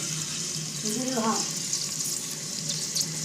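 Chicken sizzling in olive oil in a cooking pot, a steady close frying hiss with light clatter, while a voice speaks briefly over it.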